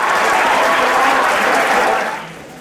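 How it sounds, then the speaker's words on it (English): A conference audience rises on cue and claps and cheers, a loud, thick wash of applause that holds steady for about two seconds, then drops away quickly. "I want everybody to stand up and cheer like your favorite movie star just walked in"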